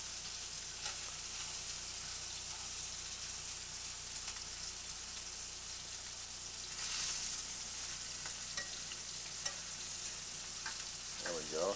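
Meat sears and browns in a pan with a steady, soft sizzle and frying crackle, heard quietly throughout with occasional faint stirring clicks and no voices.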